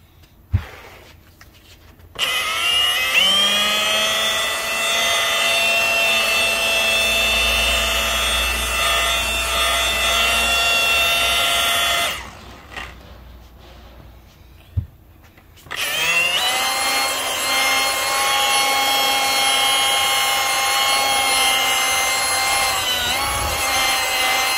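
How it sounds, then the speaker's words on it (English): Rotary polishing machine buffing scratched car bumper paintwork with compound, a loud steady whirring drone with tonal whine that runs for about ten seconds, stops briefly, then starts again at full strength. "that's going to now polish this back up, where it's going to cut the paintwork back so that it brings some polish and shine back into it"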